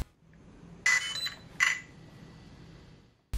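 An RC buggy's electronic speed controller beeps as its button is held, two short, bright electronic chirps about a second apart over a faint background hiss, with a click at the very end.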